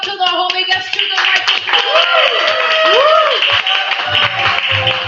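An audience claps at an open mic, a dense, steady burst of applause with cheering voices and a few whoops, near and loud.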